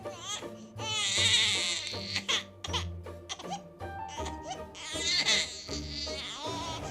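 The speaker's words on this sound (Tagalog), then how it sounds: "may narinig akong boses ng baby." Newborn baby crying just after birth: several loud, wavering wails with short breaks between them, heard up close.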